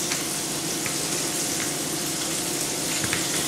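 Battered fish fries in shallow grease, producing a steady, close sizzle with small pops and crackles scattered through, no voices over it.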